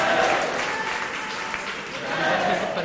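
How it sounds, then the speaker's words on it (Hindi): An audience claps loudly and steadily at a public gathering with Swami Ramdev in Chandigarh, a dense continuous applause from a large crowd heard close and filling the entire short stretch. "एक बार जोरदार तालियां हो जाए सबकी ओर से।"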